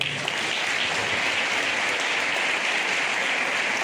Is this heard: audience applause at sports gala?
yes